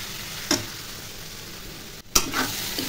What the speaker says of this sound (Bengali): নুন, হলুদ, জিরে, লঙ্কা গুঁড়ো দিয়ে একটু কষিয়ে নিচ্ছি।